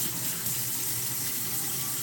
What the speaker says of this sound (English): I'll rinse the spoon.